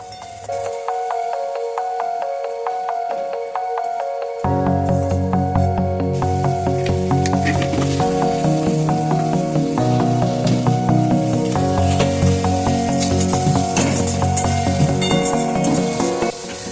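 Sliced onions with a pinch of sugar and salt fry steadily in a pan for a kosha mangsho gravy, giving a continuous close sizzle that grows louder partway through, with a steady tonal hum underneath.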